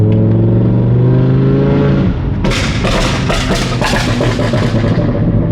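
A loud Audi R8 engine with a flame tune idles with a deep burble, then revs hard with sharp, crackling exhaust pops and roaring bursts.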